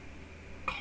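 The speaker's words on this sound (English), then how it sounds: "That's how you do coughs." A single short cough near the end, close and moderately loud, following a stretch of low hum.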